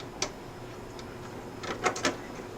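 An input card slides into a Bose ESP amplifier frame, giving faint scrapes and a few small clicks and knocks as it seats, quiet and close.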